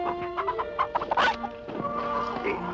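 Chickens clucking in a rural setting, several short clucks and squawks in an uneven run, close and moderately loud, with no talk over them.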